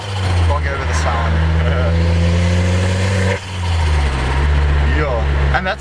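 A Ford ST engine fitted with a stage 1 downpipe and intake runs loud and close with a deep, steady drone, briefly dipping around the midpoint before resuming, while a voice talks over it.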